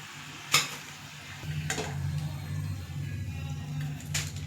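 Potato samosas deep-frying in hot oil over a medium flame give a low, steady bubbling sizzle, broken by a few sharp clicks of a utensil against the pan.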